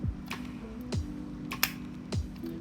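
A few crisp, separate clicks of an ultralight spinning reel's bail arm snap at irregular intervals against a steady low mechanical hum.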